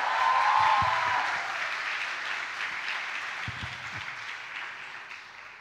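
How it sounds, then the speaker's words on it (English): A conference audience at a fireside chat breaks into steady applause, loud at first and slowly fading, with no talk over it. "deserves another round of applause"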